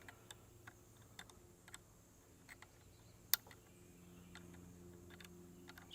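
Front sight post on an AR15 turned with a tool during zeroing, a series of faint sharp clicks spaced irregularly, with one louder click, in a quiet room without talking.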